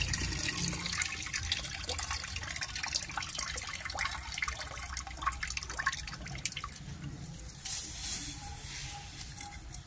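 Soaking water is emptied from a container and changed during rice seed germination, giving a steady pouring and dripping splash with scattered patter, fairly close and alone without talk.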